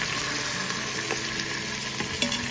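Steady sizzling of chopped tomatoes sautéing in a pan, a continuous crackle with occasional light scrapes of stirring, close and fairly loud, no voices.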